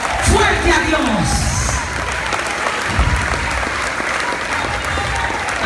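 Loud applause from a church congregation fills the space, steady clapping that carries on throughout with a few thumps and scattered voices mixed in.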